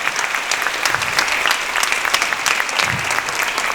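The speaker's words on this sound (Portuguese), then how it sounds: "Muito bem, uma salva de palmas para vocês." Audience at a talk and book launch clapping for two audience members, dense close applause throughout without a pause.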